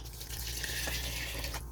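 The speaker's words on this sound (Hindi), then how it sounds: "और 1 बड़ा जग भर के पानी।" Water poured from a big jug into a pot of haleem (chicken dhaleem) ingredients with porridge grains, salt and turmeric, a steady close splashing rush lasting under two seconds with no talk.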